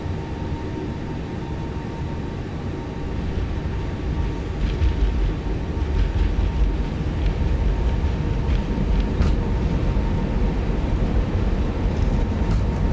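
Airbus A320neo engines spooling up to takeoff thrust in a flight simulator, a steady deep roar with a constant tonal whine that grows slightly louder and then holds, with no talk over it.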